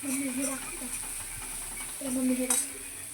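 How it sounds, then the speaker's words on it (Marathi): Masala for chicken curry sautéing in a pan, close sizzling with a spoon scraping and stirring against the metal, while someone speaks over it. "आता छान मसाला परतून झाला"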